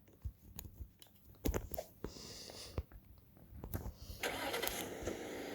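A car engine starting in the Roblox game, with sharp clicks and clunks followed by a rising, steady engine hum that grows louder toward the end. It is heard alone.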